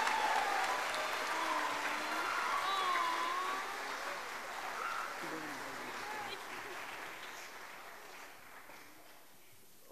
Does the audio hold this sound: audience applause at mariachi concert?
yes